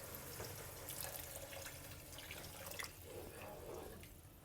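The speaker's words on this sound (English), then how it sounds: "Finally, we'll add in 600 milliliters of water." Water, 600 millilitres, poured into a pot of braised chicken for Taiwanese lu rou fan, a steady faint splashing and trickling stream running close by for several seconds with no talk.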